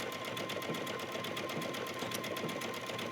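Sewing machine running an overcast stitch along the raw edges of double-sided quilted fabric, a fast even mechanical patter of needle strokes, close and continuous, with no talking.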